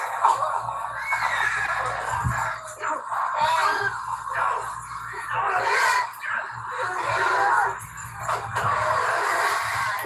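A horse neighs and whinnies repeatedly in a tense scene from the TV drama The Walking Dead, where walkers surround it; the loud, distressed cries rise and fall over several seconds amid a dense, noisy soundtrack.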